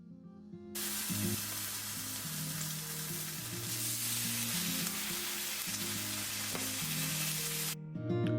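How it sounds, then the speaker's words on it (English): Bacon sizzles on a flat-top griddle at home, a steady broadband frying hiss that runs loud and continuous for several seconds after a quiet start. A low tonal hum sits underneath. "So the first thing we're going to cook is bacon."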